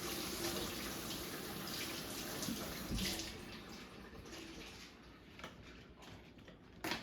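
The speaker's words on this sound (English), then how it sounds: "we're going to take our green onion, and what we're going to do is just wash those 2 really quick." Green onions are rinsed under a running tap while a cauliflower salad is prepared, giving a continuous close hiss of flowing water with a few small knocks and no talking.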